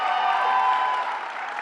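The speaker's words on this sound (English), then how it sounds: "Shirley Newsom, let's give her a big round of applause." A crowd claps and cheers at Governor Cuomo's 'Drive for $15' stop in Westbury, a sustained, even roar of applause that stays level and slightly distant throughout.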